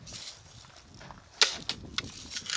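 Airgun shots at the Rocky Mountain Airgun Challenge, several sharp cracks at about one-second intervals over quiet outdoor background noise.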